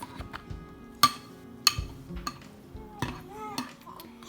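Elmer's glow-in-the-dark slime being stirred in a bowl, with scattered clinks and taps of a utensil against the container and soft wet mixing sounds between, fairly quiet and close.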